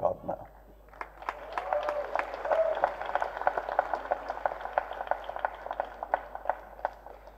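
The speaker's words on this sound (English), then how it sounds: "That's an applause that's coming to him decades later" Dense applause from the audience at the first-look launch event for the film 83, with a voice talking over it.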